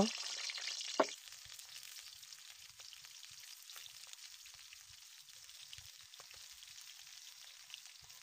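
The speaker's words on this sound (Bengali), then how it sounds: "কড়াইতে তেল দিয়ে তাতে পটলগুলো দিয়ে দিব।" Pointed gourd pieces dropped into hot oil in a wok, a bright burst of sizzling at first that settles into a quiet, steady crackle and spit.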